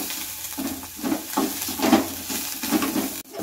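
Curry leaves fry in a pan, a close, rolling sizzle with rhythmic stirring scrapes that swell and fade, ending with a brief sharp drop, no voices.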